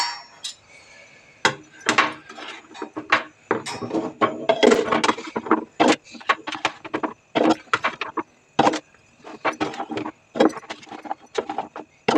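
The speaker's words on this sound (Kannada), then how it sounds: "ಇವಾಗ ಸ್ಪೂನ್ ತಗೊಳ್ತೀನಿ ಸ್ಪೂನಲ್ಲಿ ಎತ್ತಾಕ್ತೀನಿ" A spoon scooping food out of a container, heard as a loose series of close, sharp clinks and scrapes in irregular rhythm, some louder than others, with no talk over them.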